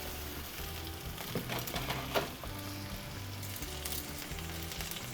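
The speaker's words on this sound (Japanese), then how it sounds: "油足して芋に焼き色をつけながら" Potato pieces fry in olive oil in a pan beside resting chicken, a soft, steady sizzle with faint crackles and a few light stirring scrapes.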